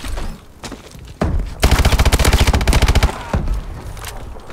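Rapid automatic gunfire from Call of Duty Advanced Warfare multiplayer with the KF5 on PC: a few scattered shots, then a loud sustained burst of evenly spaced rounds lasting over a second, trailing into lighter shots.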